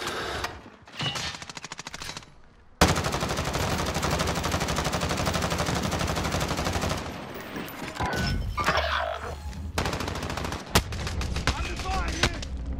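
Heavy gunfire and automatic bursts crackle loud and close, starting sparse then becoming a dense continuous volley with booming impacts, breaking off briefly before more shots return.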